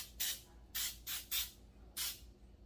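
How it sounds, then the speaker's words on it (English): Joy cooking spray misted into cake pans in four short hissing bursts, one pair close together, each a bright airy spray, close and fairly quiet with no talking. "I'm just going to take my Joy spray."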